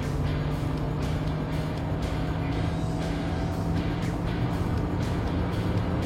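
A Kia Seltos EX+ engine revs high and holds steady at high RPM under hard acceleration, a continuous loud drone with road and wind noise and no talk.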